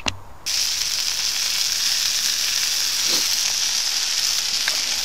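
Bacon sizzles loudly in a pan, a steady close hiss of spitting fat that starts abruptly after a brief clatter and carries on with a few faint clicks and scrapes.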